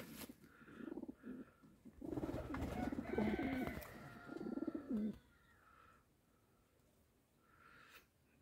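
Show pigeons coo close by in a pigeon loft in a series of low throaty burbles, then quieter rustling and faint chirps follow.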